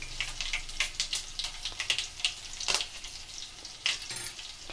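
Garlic, dried red chillies and curry leaves frying in hot oil with onions, crackling and spitting in bursts of sharp pops over a soft sizzle, close and fairly quiet.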